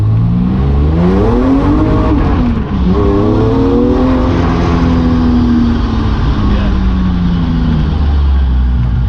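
A BMW M3 Compact's engine revs hard and loud while driving, the pitch climbing and falling through repeated rises as the car accelerates, close and continuous for the whole stretch.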